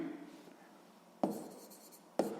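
A pen scratches across paper while a sixth-grade maths problem is worked out, giving a soft steady scraping in a quiet room with two sharper taps or strokes near the end.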